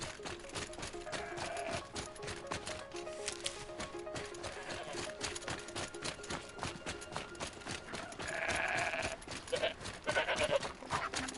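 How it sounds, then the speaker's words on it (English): Goats bleat repeatedly in the snowy setting of the video game Horizon Zero Dawn: The Frozen Wilds, with steady in-game ambience and hoof-like clatter underneath and louder bleating swells toward the end. "Friggin' goats."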